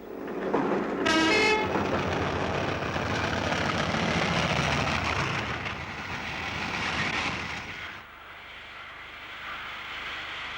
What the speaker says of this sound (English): After the war, the railways began to have a new look and a new noise. The diesel was taking over.